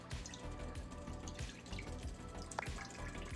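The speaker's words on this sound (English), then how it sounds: "we're going to take the sauce that we made and we're going to put it right in the pan." Sauce for Salisbury steak is poured into a pan, giving faint liquid splashing and dripping with a soft trickle throughout and one brighter plink near the end, quiet and close.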